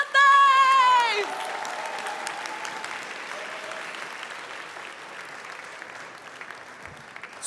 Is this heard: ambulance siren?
no